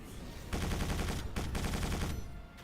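Automatic turret fire in the Quake 4 video game sounds as rapid, evenly spaced bursts of machine-gun shots. Two long volleys are split by a brief pause, and it fades near the end.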